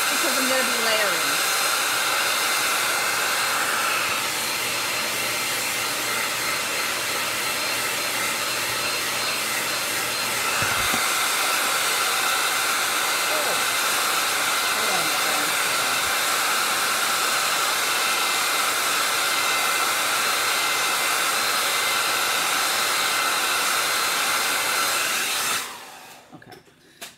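A handheld hair dryer blows on a freshly painted lemon decor craft, making a loud, steady, close whoosh that runs unbroken for about twenty-five seconds before it switches off.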